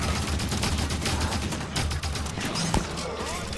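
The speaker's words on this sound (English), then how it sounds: "Turrets on and firing." Auto turrets in Halo 5 open up in rapid, sustained bursts of gunfire, a steady rattling fusillade at moderate volume over game background noise.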